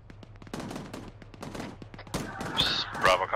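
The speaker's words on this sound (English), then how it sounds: "Being shot at, Mike." Rapid gunfire in the military shooter Arma 3, bursts of sharp cracks and automatic fire in quick succession, loud and close, with a whizzing overhead near the end.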